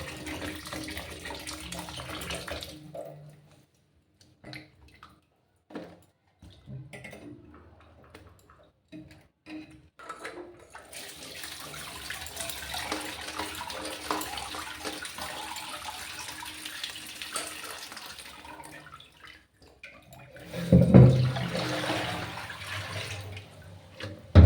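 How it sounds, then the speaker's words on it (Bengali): Bottle gourd pieces are rinsed under running tap water, a steady splashing wash lasting most of the clip, with a louder gush near the end as water is poured off. "এবার এই লাউগুলো ধুয়ে নিতে হবে বেশ ভালো করে।"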